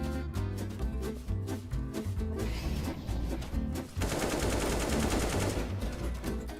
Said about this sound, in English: God, the AK sounds so nice.